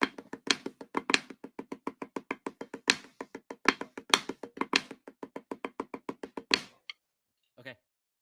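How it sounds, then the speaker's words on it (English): Drum flams played with a right-hand lead, a steady stream of sharp doubled hits in an even pulse on a nearby drum, ending after about seven seconds with one faint stroke alone. "You're going to start with the right lead, but I want to hear it as flams."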